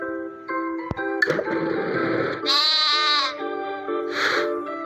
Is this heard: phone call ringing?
no